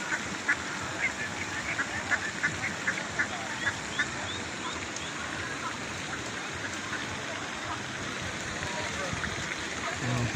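Small ducklings give a run of soft, high quacks early on, then fade under a steady hiss of outdoor ambience, with faint rain-like patter continuing alone toward the end.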